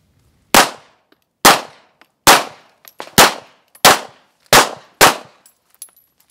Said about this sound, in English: we got the Walther PPKS. Let's shoot it.